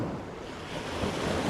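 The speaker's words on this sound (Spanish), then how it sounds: "Ahora mismo están las olas tocando, y eso que no hay olas, tocando las casas." Sea waves wash up on a sandless stretch of beach at Playa del Carmen, close enough to reach the houses. A steady, loud roar of surf mixes with gusty wind buffeting the microphone, and no one speaks.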